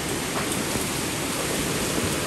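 Steady soft hiss of light rain drizzle on a farm after a typhoon, a continuous fine patter with no distinct drops standing out and no voices.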